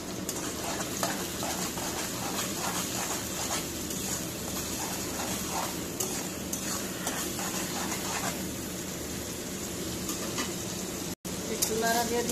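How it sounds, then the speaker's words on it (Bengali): Onions sizzling in oil in a pan while being stirred, a constant close crackle broken by scraping strokes of the spoon, with brief speech in the background. "পেঁয়াজটা হয়নি এখনো, আর একটু ভাজা ভাজা হইব।"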